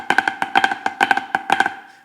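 Snare drum flams played too wide and open, each grace note landing noticeably apart from the main stroke, in a quick repeating pattern of sharp, close, loud hits with no talking.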